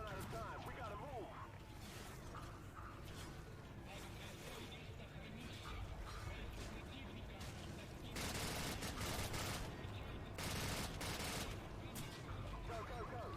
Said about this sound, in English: gonna shoot my way through the top floor of enemies